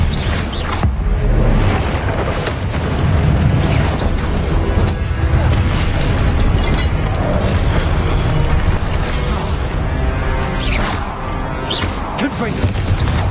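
Confringo spell blasts in Hogwarts Legacy, loud and dense, with repeated explosive bursts and crashing impacts layered over continuous combat noise throughout.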